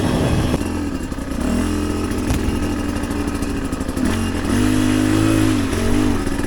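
A Chinese dirt bike engine runs close by with a loud, rattly idle, blipped up to higher revs a few times along the way, with mechanical clatter underneath.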